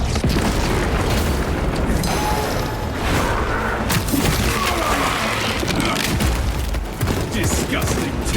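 A melta bomb blows up in the Space Marine video game amid a loud, continuous barrage of booms, gunfire and mechanical clatter, with voices shouting in the mix.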